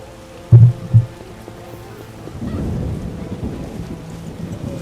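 Rain and rolling thunder in The Witcher game, with two heavy low thunder thumps early on followed by a steady wash of rainfall that continues to the end.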